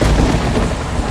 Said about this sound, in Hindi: डरो नहीं बच्चों, ये आकाशी बिजली है। जब बादल आपस में टकराते हैं तो ऐसी आवाजें आती हैं।